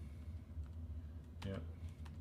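Soft keyboard typing, a few scattered light keystrokes with a quick cluster of clicks in the middle, quiet and close over low background hum.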